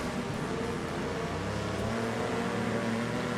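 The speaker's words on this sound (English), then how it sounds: "I can only listen to engine noise for so long." Car engines drone steadily throughout in the Wreckfest racing game, a dense continuous low rumble of several motors with no clear individual revs standing out.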